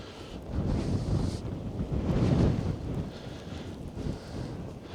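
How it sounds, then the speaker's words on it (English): Strong wind blows steadily during a spring snowstorm on a farm, buffeting the microphone in loud, continuous gusts that swell and ease without pause. "This wind is gonna settle down, but man, right now it is just nasty."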